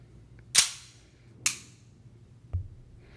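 Three crisp metallic clicks sound up close, spaced about a second apart, as the single-sided safety on a Kimber KDS9c double-stack 1911 pistol is flicked, with quiet room tone between them and no talking.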